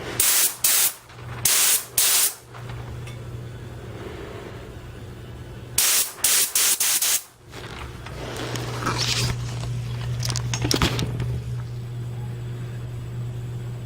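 Air spray gun at 50 psi releasing bursts of hissing spray: several short triggered pulses, then a longer continuous hiss, close and fairly loud with no talk.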